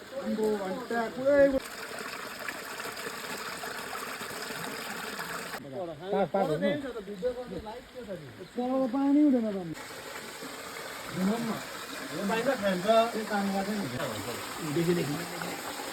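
A small stream in a Sikkim jungle flows with a steady, even wash of water beneath near, continuous conversation from several people talking over it.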